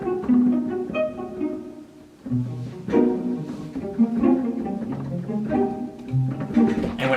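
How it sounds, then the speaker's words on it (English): A full string section of basses, cellos, violas and violins plucks pizzicato, producing short, soft, bouncy notes in a layered rhythmic pattern at moderate volume. "So this is the whole section of them plucking,"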